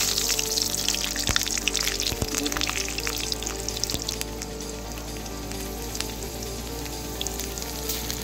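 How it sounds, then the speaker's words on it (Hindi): Bay leaf and two green chilies crackle and sizzle in hot oil for a village-style tribal chicken curry, a steady close frying hiss with a few sharp pops and no talking. "तेल हम देंगे, डालेंगे तेज पत्ता और दो हरे मिर्च।"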